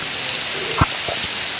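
Steady rain falls during a heavy downpour that floods some homes, a soft continuous patter with a few sharper drops and knocks standing out.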